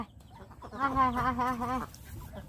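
A single drawn-out, wavering vocal call, close and clear, summons a flock of ducks at dusk for their evening feed of rice grain, with quiet surroundings before and after.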